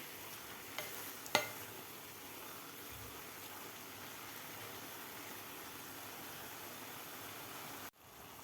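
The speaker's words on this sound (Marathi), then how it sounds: "एकसारखं याला हलवत राहायचं आहे." Grated carrot being stirred in simmering milk for carrot halwa, a low steady bubbling with soft scraping, a sharper clack of the spoon early on, then an abrupt stop near the end.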